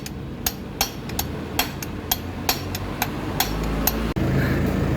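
A hammer repeatedly taps a wheel bearing into place, giving about a dozen sharp metallic strikes at an uneven pace over steady background noise in a repair setting.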